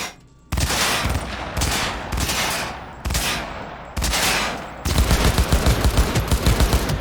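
Assault rifle fire in Cyberpunk 2077: several loud, close bursts with short gaps between them, ending in a sustained rapid stream of shots, with no voices.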